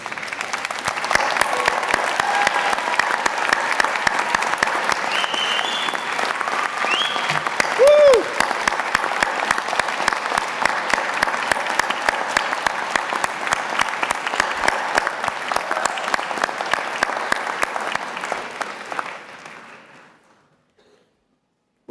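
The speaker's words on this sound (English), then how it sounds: "So up you get, and a round of applause." Sustained applause from a graduation ceremony audience for health, education and life sciences graduates, a dense wash of many hands clapping steadily for about twenty seconds before cutting off. A brief whistle rises partway through.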